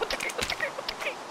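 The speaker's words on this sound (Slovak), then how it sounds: "Prečo sliepka je v našom dome?" A chicken in the Minecraft survival game clucks inside a house, giving several short, chirpy clucks in quick succession, close and clear.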